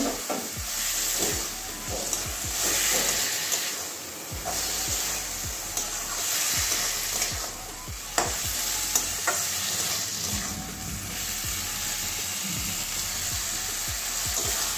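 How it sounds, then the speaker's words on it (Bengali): Potatoes and soybean chunks with spices sizzle in a pan while a spatula scrapes and stirs in repeated, irregular strokes. The hissing fry continues throughout with no voices. "এবারে আলুটাও দিয়ে দিচ্ছি, আলুটাও কষিয়ে নেবো সয়াবিনের সঙ্গে।"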